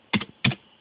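Two short, close bursts of computer keyboard typing, each a quick cluster of key clicks, separated by a brief pause in an otherwise quiet room.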